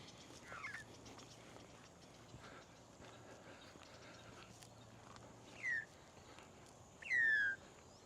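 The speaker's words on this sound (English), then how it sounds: "The noise is a magpie noise." Australian magpies call in Yakamia Forest on a public footpath, their faint warbling notes rising to a couple of clearer, fluting whistles near the end over a soft outdoor background, with no talking.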